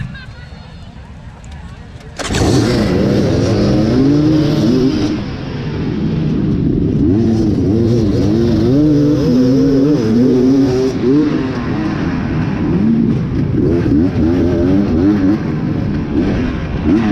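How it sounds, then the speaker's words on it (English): A push-button-start two-stroke dirt bike revs hard and loud at a hare scramble at Pleasant Creek Raceway in Grafton, West Virginia. The engine roars in sustained, rising and falling revs right up close after a short, quieter opening. "I definitely can get used to this push button 2-stroke thing."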